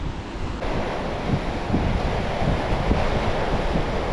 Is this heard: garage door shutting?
no